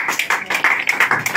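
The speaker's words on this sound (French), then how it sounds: "Une bonne acclamation pour Jésus." A church congregation claps in quick, uneven bursts, loud and close, in a short burst of applause for Jesus.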